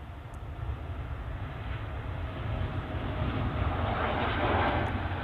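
Boeing 787 Dreamliner passing at Manchester Airport, a steady broad engine rumble that builds gradually and peaks near the end, moderately loud and unaccompanied by talk.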